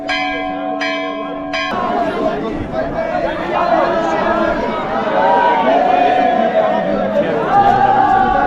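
Pilgrims crowd together at Badrinath temple as its doors are about to open, a dense murmur of many voices and bustle with a few clear bell strikes at the start, while someone talks over the throng.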